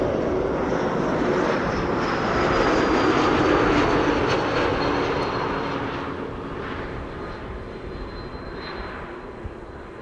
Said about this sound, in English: This is KLM Flight 1420 arriving from Nantes.